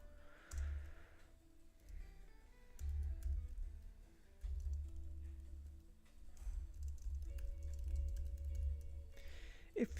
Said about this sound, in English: Let me just do some quick typing real quick